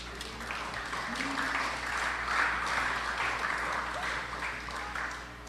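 Steady applause from an audience at a youth cricket awards and closing ceremony honouring coach Mr. Dexter Toppin, continuous clapping from a medium distance with a few voices underneath.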